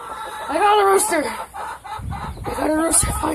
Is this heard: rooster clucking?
yes